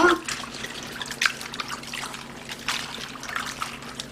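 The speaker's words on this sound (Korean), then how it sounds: "흐르는 물에 이렇게 해서" A 450 g napa cabbage is rinsed under a running kitchen tap, producing close, uneven trickling and splashing as the leaves are turned in the flow.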